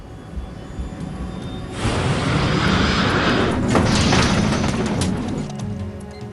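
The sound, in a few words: airliner taking off, engines roaring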